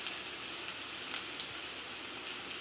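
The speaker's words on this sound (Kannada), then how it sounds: "ಇದೇ ಬಾಣಲೆಗೆ, ಇದೇ ಎಣ್ಣೆಗೆ ನಾನು ಸ್ವಲ್ಪ" Chopped onions hitting hot oil in a frying pan give a steady, close crackling sizzle with no talk over it, the oil left over from cooking kaltappa, a Karnataka rice cake.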